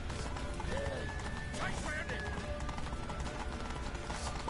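In the Witcher 3 video game, horse hooves clip-clop steadily under game music and effects while a person talks over the action.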